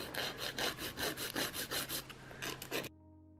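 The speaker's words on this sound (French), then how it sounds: "je vais venir faire la forme de mon ongle. Donc je vais bien limer sur les côtés." Rhythmic back-and-forth rasp of a nail file shaping the sides of a gel fingernail, about a dozen close, even strokes that stop abruptly near the end.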